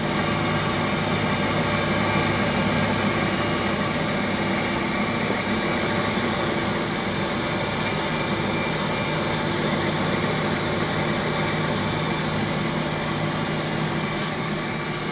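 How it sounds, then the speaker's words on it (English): A Royal Master grinding machine runs quietly with both grinding wheels turning, giving a steady, even mechanical hum with no talking. "Start the machine up. Very, very quiet. Both wheels turning easily and quietly."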